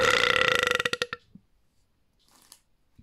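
A single loud, long burp rattles in rapid pulses that slow and fade out, followed by near silence and a faint rustle.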